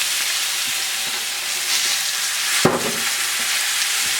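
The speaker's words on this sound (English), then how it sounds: "Now we're going to add our shallots and our mushrooms." Shallots and mushrooms sizzle in a pan for chicken chasseur, a steady, close hiss with one brief clatter partway through and no talking.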